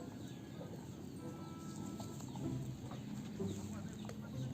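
Chickens cluck softly and intermittently at close range against a low background rumble, with occasional faint bird calls.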